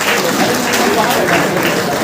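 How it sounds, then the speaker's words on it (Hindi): Steady applause from an audience at a village meeting, dense clapping throughout, close and fairly loud, with voices mixed in. "अर्जुन जी के लिए जोरदार ताली होना चाहिए"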